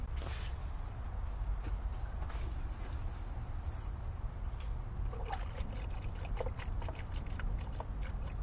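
Coolant being poured to fill a car's dry engine, a steady trickling pour that runs continuously and fairly faintly, with small splashes and drips toward the end.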